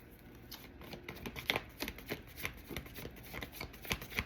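Tarot cards being shuffled close up, a quiet, rapid run of papery riffles and soft flicks repeating in a steady rhythm, with no one speaking.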